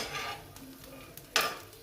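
Garlic tossed onto roasted chillies in a pan gives a soft sizzle with light stirring, then a brief louder burst of frying near the end.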